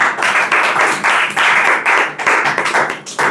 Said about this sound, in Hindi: तो परमेश्वर के लिए एक ताली बजा के उनकी महिमा करें